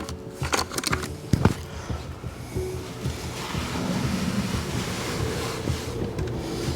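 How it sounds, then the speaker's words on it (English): Wild Arizona clay and temper poured back and forth between two buckets outdoors, a continuous rushing, gritty pour with a few sharp knocks early on and steady wind-like noise throughout, no voices. "I'm just going to pour it back and forth between these 2 buckets until the temper and the clay are all mixed together."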